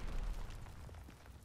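Incendiary strike explosions in Call of Duty WW2, a low, rumbling burst with a rolling boom that decays slowly, moderately loud and heard alone.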